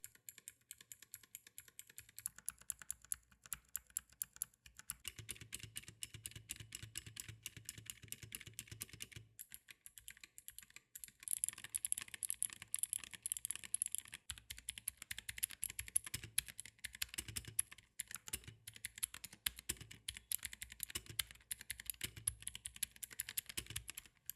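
Steady, rapid clacking of a Rapoo V500 Pro full-size mechanical gaming keyboard, with bursts of keystrokes and brief pauses, close up and alone with no voices.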